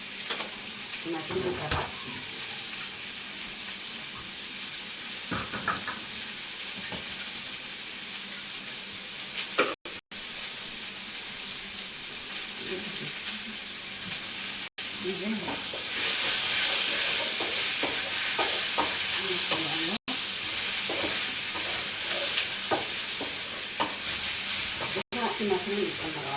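Onions, garlic and leek sizzle and hiss steadily in a hot pan for a vegetable dish, with occasional stirring clatter. The frying swells louder about halfway through and continues throughout, with a voice talking briefly over it.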